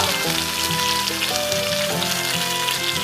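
Dried red chillies and nigella seeds sizzle in hot oil, giving a steady, close crackling hiss that runs without a break. They are being tempered for a potol (pointed gourd) dish cooked without potatoes.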